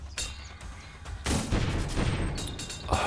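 Gunfire in Animal Revolt Battle Simulator, a game pitting men against gorillas and velociraptors: sharp shots at first, then a dense, sustained volley of booming fire that rolls on steadily and loudly to the end.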